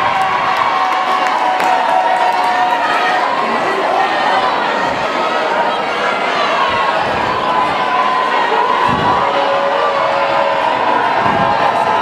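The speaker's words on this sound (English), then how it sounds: "Stevens crowd starting to make noise" A J.P. Stevens high school crowd roars during a boys varsity basketball game against Edison, loud sustained cheering and chatter from a packed gym with shouts, scattered applause and occasional ball bounces, while an announcer talks over it.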